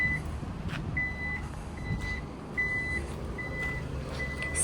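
A 2011 Toyota Vellfire's electric power tailgate sounds a steady series of evenly spaced warning beeps while it operates, over a low background rumble.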